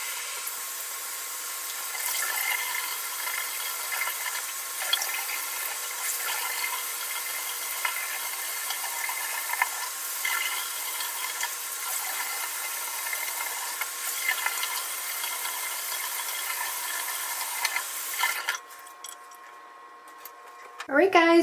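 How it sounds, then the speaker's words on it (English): Tap water runs steadily for about eighteen seconds while toothpaste blackhead mask is rinsed off a face, with water splashing and shifting under the steady flow before it stops and a voice starts at the end. "I just rinsed the blackhead mask off of my face"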